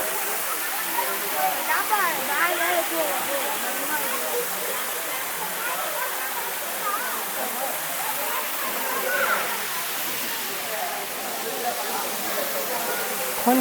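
Kailasana Kona waterfall roaring steadily and close, a dense unbroken wash of falling water that holds level throughout with slight surges.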